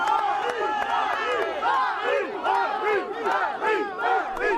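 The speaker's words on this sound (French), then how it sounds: "Un bain de foule ce matin près de Caen." A dense crowd on a walkabout near Caen shouts and chants in overlapping voices, loud and close, with rising and falling cries throughout.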